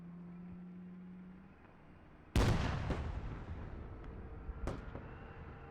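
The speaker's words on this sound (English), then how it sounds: "here come the missiles onto this Abrams tank" Missiles striking an Abrams tank in a military video game, a sudden heavy blast that decays into rumble, followed a couple of seconds later by a second, lighter impact.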